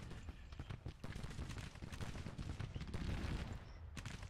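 Dense volleys of cannon and rifle fire in a video game battle, with rapid overlapping shots and booms crackling continuously at full intensity, no talk over it.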